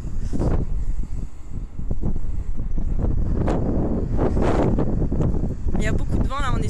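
Strong gusting wind buffets the microphone on a rooftop high above Montpellier during a summer storm, a loud continuous roar with brief swells and dips throughout.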